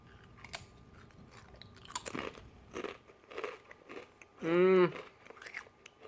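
Close, crisp crunching and chewing of sweet chili whole grain tortilla chips in a series of bites, with a brief vocal hum partway through.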